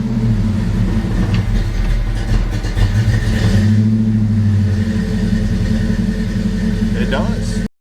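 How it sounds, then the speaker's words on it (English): A Ford Mustang with an LS engine running after being cranked, a loud steady idle with a deep rumble throughout and slight variations in pitch, close by, ending abruptly. "Maybe let's see if it'll crank."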